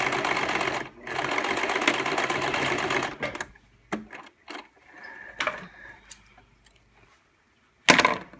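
Sewing machine running a long continuous seam around a fabric storage case for about three seconds, then short separate bursts and clicks as stitching stops and restarts, ending with one more quick burst.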